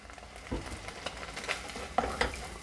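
Semi-dried bracken stir-fried in perilla oil in a pan, soft sizzling with scattered scrapes and taps of a utensil stirring against the pan, fairly quiet and close.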